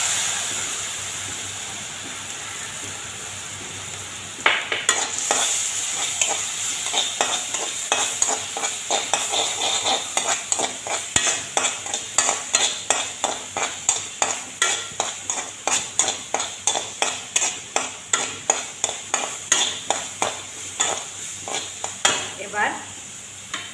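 A spice paste of ground coriander, chilli and turmeric mixed with water hits a hot pan and sizzles, then gets stirred with rhythmic scraping strokes, steady hissing under the repeated stirring.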